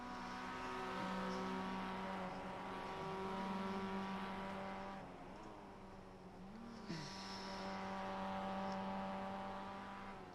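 Mazda MX-5 Cup race car engine in iRacing, a steady droning exhaust note that rises and falls through gear changes, with brief dips near the middle and a short rev blip, continuous and close throughout.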